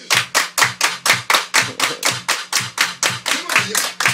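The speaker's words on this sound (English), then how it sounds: "Everybody clap your hands." A crowd claps in unison to a dance call-along, about eight loud, evenly spaced claps over a steady musical backing.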